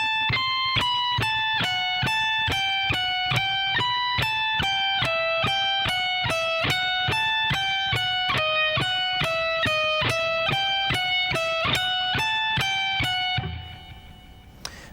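A distorted electric guitar plays a fast, even run of picked single notes in a repeating speed-soloing lick at a slow practice tempo, clear and close without talk, ending on a ringing note that fades out.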